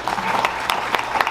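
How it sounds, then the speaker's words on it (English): A banquet crowd of trucking association members claps in a short, dense burst, steady and moderately loud without a clear ending. "Let's give every one of you guys a big round of applause,"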